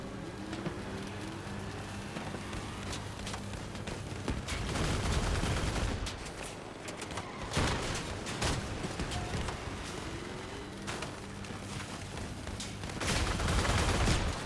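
Vehicle-mounted guns firing in Crossout combat, a dense sustained rumble of shots and engine noise with heavier bursts around the middle and end, no speech.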